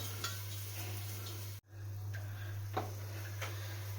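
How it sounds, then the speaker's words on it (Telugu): Soaked rice being stirred in a pot while making soya bean pulao, grandma style: a few soft, scattered scrapes and clinks over a low, steady hum, fairly faint and close. "బియ్యం వేసుకొని ఇలా కలుపుకోవాలి"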